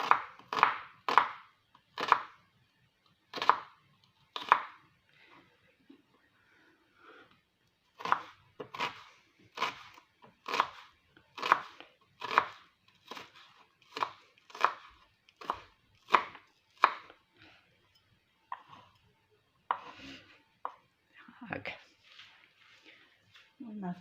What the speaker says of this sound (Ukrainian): І ось так дрібненько покришимо цибулю.